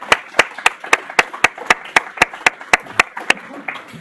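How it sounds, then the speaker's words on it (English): A small audience at an office awards gathering claps in a steady, regular rhythm, with sharp distinct claps about every quarter second. They sound close and fairly sparse, as from only a few hands. "Let's give her a round of applause."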